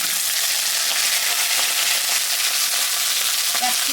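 Capsicum and ridge gourd sizzling in hot oil as more oil is added, a dense continuous frying hiss up close with light stirring scrapes and no talk.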